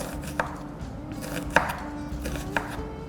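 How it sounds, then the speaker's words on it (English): A knife slices onion thinly on a cutting board, producing three distinct sharp knocks spaced about a second apart over quiet kitchen background, close and clear. "I've got some onion here, which I'm just going to slice really carefully"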